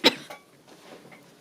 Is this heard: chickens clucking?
no